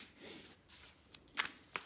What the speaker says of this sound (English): Let's shuffle one more time and see what card comes up.